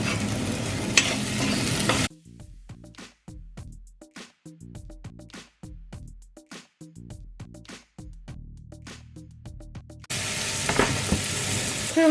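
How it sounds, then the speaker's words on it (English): Potatoes tossed with masala spices in a hot pan sizzle and scrape loudly at the start and again at the end, with quiet music filling the stretch in between. "Mix the potatoes nicely with the masala"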